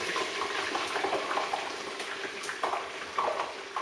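Homemade French fries plunged into hot oil in a pan bubble and crackle with a steady, soft, continuous fizz throughout.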